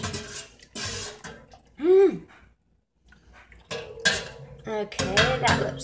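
Metal utensil clanks and scrapes against a pot of fabric dye, with sloshing liquid between bursts, a brief pause, then more stirring and clatter close by.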